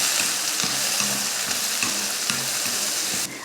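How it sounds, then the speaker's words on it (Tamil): Chopped bottle gourd sautéed with onion, turmeric and salt in a hot pan, a steady sizzle broken by rhythmic stirring scrapes, close and continuous without talk. "மஞ்சத்தூள் உப்பெல்லாம் சேர்த்துட்டு ஒரு 2-3 நிமிஷத்துக்கு நல்லா காயை வந்து வதக்கி விடுங்க"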